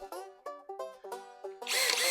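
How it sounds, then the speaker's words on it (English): A Skil hammer drill bores a hole in short repeated bursts, each a whining spin-up that stops and restarts several times, then runs into a louder, harsher sustained drilling at the end. "she did the first part of the hole without the hammer mechanism kicking in"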